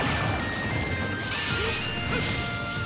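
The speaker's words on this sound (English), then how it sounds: "The smash ball's gonna go off." Smash ball activating in Super Smash Bros, a dense burst of crashing game effects, whooshes and rising tones over busy gameplay noise, loud and continuous for a few seconds.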